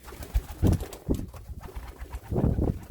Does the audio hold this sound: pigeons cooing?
yes